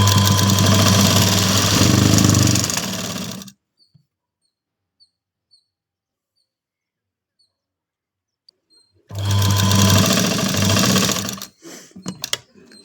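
A sewing machine stitching a blouse runs in two loud, steady bursts, one of about three and a half seconds and a second of about two seconds, separated by near silence with a few faint clicks.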